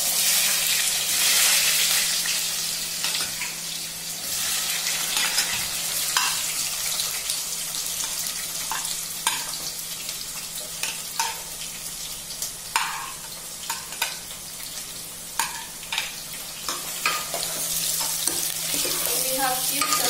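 Onions sizzle and fry in a pan while being stirred, producing continuous loud crackling with repeated scraping clicks from the utensil throughout.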